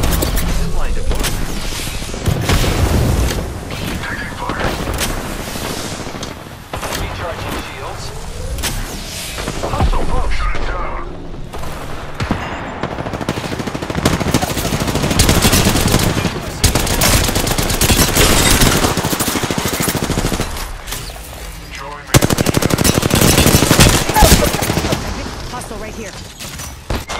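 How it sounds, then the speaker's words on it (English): Gunfire in the video game Apex Legends rattles in dense, loud bursts and booms layered with game sounds, near and continuous, with game voice lines heard over it. "I am taking fire, friends."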